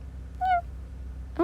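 A house cat meows indoors during a storm, two short nearby calls about a second apart, the second higher and sharper, over a low steady background hum.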